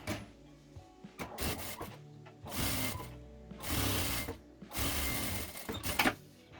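A sewing machine stitches nylon and lining fabric for a handmade pencil case in several short whirring bursts, each a second or so long, separated by brief pauses, close and fairly quiet.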